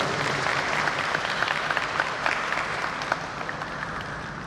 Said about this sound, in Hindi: तालियों की गूंज इसकी शोभा बढ़ाएगी।